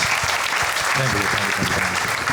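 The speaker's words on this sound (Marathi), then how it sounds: "ठीक आहे भाई एकदा जोरदार टाळ्या यार प्रेमसाठी." Audience clapping loudly and steadily for a performer at a Marathi comedy show, a dense burst of applause with a voice briefly audible underneath.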